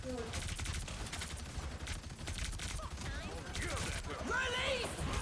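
Rapid gunfire from a deployed turret in a competitive video game match at a college esports playoff, continuous bursts throughout under loud caster commentary and in-game effects.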